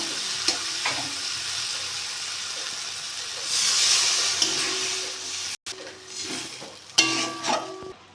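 Spice paste sautéing in oil in a pan for parshe fish curry: a close, steady frying sizzle with hiss and steam, broken by stirring scrapes and a brief cut, then brighter sputtering near the end.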